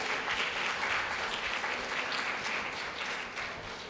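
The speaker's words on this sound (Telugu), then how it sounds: "గట్టిగా క్లాప్స్ కొట్టాలి, క్లాప్స్తో తెలపాలి." Children at a summer meditation camp clapping loudly together, a dense sustained wave of applause from a large group that tapers slightly toward the end.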